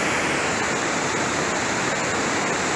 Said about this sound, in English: Water's moving pretty good.